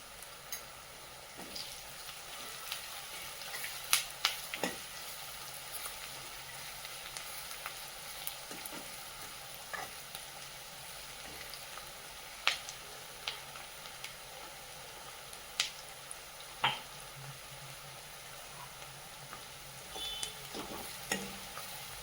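Onions frying with salt in a pan, a faint continuous sizzle with occasional soft crackles and utensil taps over a long stretch.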